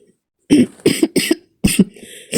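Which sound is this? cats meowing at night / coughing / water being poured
coughing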